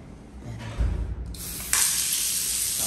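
Water runs from taps in the men's ablution area of a mosque set up at a Saudi facility management expo, a steady hissing stream that grows louder partway through and continues to the end.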